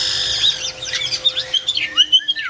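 A wet pet bird named Spiky chirps repeatedly while bathing in a sink, bright tweets and short rising calls in a quick, uneven series, close and clear with no talk.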